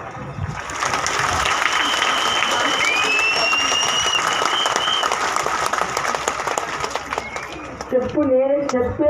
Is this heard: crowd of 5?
yes